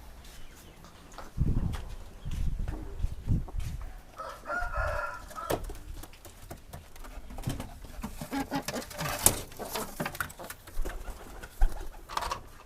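Pigeons coo and flutter inside a cage, soft repeated calls near the microphone with scattered clucks and rustling, other fowl faintly audible in the background, no talking.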